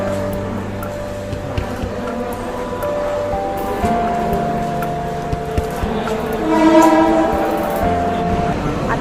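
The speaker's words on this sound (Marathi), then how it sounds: "10:58ची ट्रेन लागली आहे" A train at Mulund railway station platform rumbles steadily nearby, with sustained humming motor tones and a horn rising over the din toward the end.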